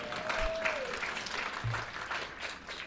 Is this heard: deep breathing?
no